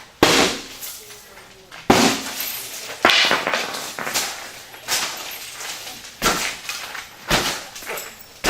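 A sledgehammer pounds tinted window glass fitted with a security film attachment system, roughly eight heavy, sharp impacts spaced a second or so apart, each ringing briefly before the next strike.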